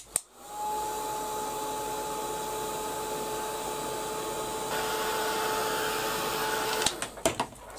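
A handheld heat dryer blows steadily over a paper craft tag, a loud continuous whirring hiss with a thin whine that holds for several seconds before switching off, followed by a few clicks and knocks.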